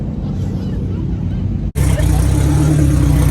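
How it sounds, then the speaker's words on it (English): A race car engine idles and runs steadily in cold weather at a track event, a loud low drone with a brief cutout partway through before resuming, with voices faintly in the background. "It's running good now. You can listen to the engine."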